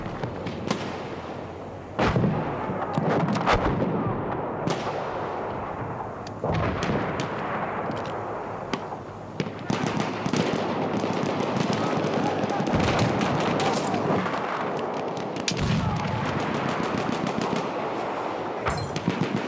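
Battlefield 1 multiplayer combat, with dense bursts of machine gun fire and rifle shots and heavy booming explosions. The firing comes in loud, sustained stretches with brief gaps, and faint voices sit in the mix.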